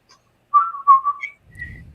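A man whistles a short tune in three or four clear, melodic phrases, imitating someone idly whistling during a break in filming, followed by a low murmur at the end.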